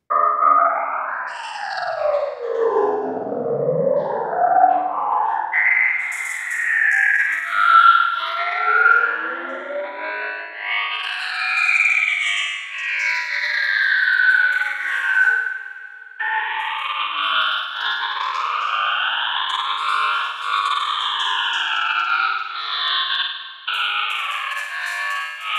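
Hi-hat transformed by heavy effects processing, phaser, filters and resonances, into a continuous swirling atmosphere; sweeping, rising and falling tones wash steadily throughout with no voices.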